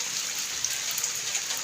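Rain falling steadily during the first winter downpour at a home in Pakistan, a dense continuous hiss with scattered louder drops, close by and without talk.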